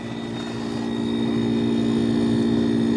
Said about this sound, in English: I wonder if there's something I can do to put behind that to quiet that compressor down on the inside